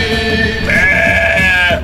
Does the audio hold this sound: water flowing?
no